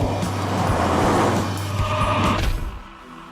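A new, lightweight Mazda MX5 sports car drives past and turns in, its engine giving a loud, close roar with road noise that swells and then drops off sharply near the end.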